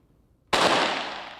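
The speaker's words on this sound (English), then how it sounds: "Gunfire ringing through the halls of a school." A single sharp gunshot cracks out suddenly after a near-silent moment in a school hallway during a training exercise, its loud blast trailing into a reverberant echo.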